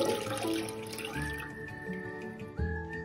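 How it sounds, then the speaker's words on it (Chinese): Clean water, 800 ml, pours steadily into a cooking pot, a continuous splashing flow with a rising tone as the pot fills, close and alone. "锅内倒入800毫升清水"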